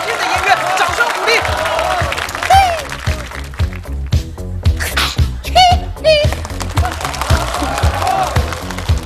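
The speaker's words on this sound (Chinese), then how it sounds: "掌声鼓励" Studio audience applauding a family comedy show, a steady dense wash of clapping with some cheering, loud and close, with voices speaking over it.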